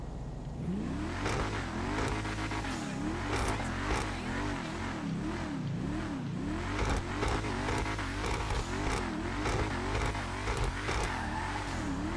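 The Enus Paragon S sports car from GTA Online drives in the game, its engine revving up and down in repeated rising and falling sweeps through gear changes, steady and up close.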